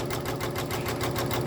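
An embroidery machine runs steady basting stitches across quilt seams in a magnetic hoop, a fast even mechanical whir and buzz that continues without pause throughout.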